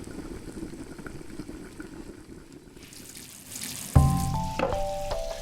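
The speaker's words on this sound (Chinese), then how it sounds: "加水， 盖上锅盖，用中小火焖10分钟左右" Pan-fried dumplings (guotie) in a covered pan with water added, simmering over medium-low heat: a steady low bubbling and sizzling hiss that grows louder midway, with a sharp clatter and brief clinks near the end.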